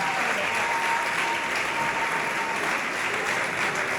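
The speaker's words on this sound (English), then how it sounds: "Please clap for him." Audience at a school induction ceremony for a new headmaster gives steady, even applause, a continuous wash of many hands clapping at moderate distance without a break.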